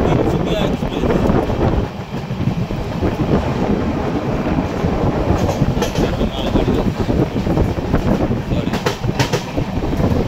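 Mizoram Rajdhani Express running on rails, heard from on board as a loud, continuous rumble with rhythmic wheel clatter and some wind buffeting.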